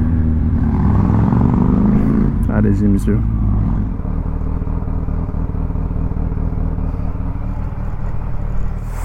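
A deep, rumbling Harley-Davidson motorcycle engine idles and revs loudly close by, with a metallic clatter and a brief spoken remark over it.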